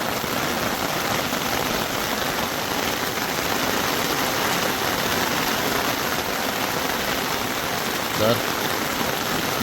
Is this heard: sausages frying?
no